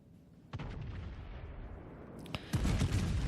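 A video-game battleship fires a broadside from multiple guns: a deep booming blast rolls and decays, followed by a second heavy salvo near the end, loud and low with no voices.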